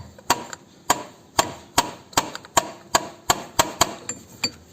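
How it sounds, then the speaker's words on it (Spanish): A chisel is struck repeatedly with a hammer against a part of a Mercedes C200 W203 engine, about a dozen sharp metallic blows in a fairly even rhythm, close and loud, with nobody speaking. "Lo que voy a hacer es coger un cincel y le vamos a dar unos golpes para ver si así se libera algo."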